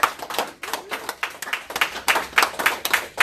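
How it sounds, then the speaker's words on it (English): A small group claps in a quick, uneven rhythm, many hands overlapping into distinct bursts, as a real estate team meeting in West Palm Beach gives its members a round of applause; close and fairly loud with no talking. "a round of applause."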